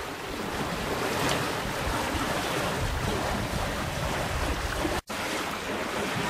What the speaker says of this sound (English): we're having a nice sail in at the moment